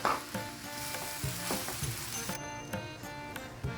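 Grated raw mango for a jaggery mango relish cooks in a pan, sizzling steadily as it is stirred, with soft repeated scrapes and knocks of the spoon at a close, moderate level and no talking.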